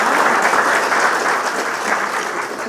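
A conference audience at an open source community event in Africa claps steadily and loudly throughout, a dense, sustained round of applause with no voices on top.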